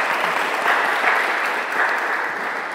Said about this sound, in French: Donc je veux qu'on l'applaudisse pour ça,